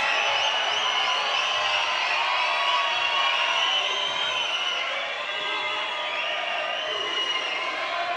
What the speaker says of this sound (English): João Moraes is asking the crowd to cheer